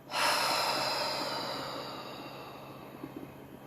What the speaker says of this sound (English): take a lovely deep breath in. And a long,